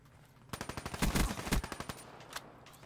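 Rapid automatic gunfire from a gun in the video game Call of Duty Black Ops 3: a fast burst of about a dozen close, sharp shots, loudest midway, then a few scattered single shots.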